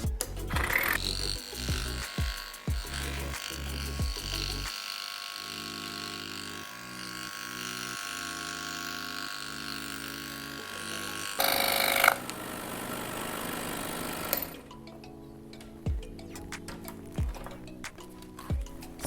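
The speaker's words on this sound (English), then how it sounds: "So let's start scrolling and head to this corner." A scroll saw cuts out lettering in bursts of rapid reciprocating buzz and rattle, its motor tone shifting between short stop-start stretches and longer runs, sounding close and fairly loud with no speech.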